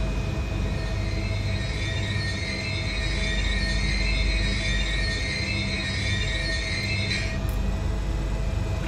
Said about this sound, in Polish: Tragiczne hamulce ma ten pociąg.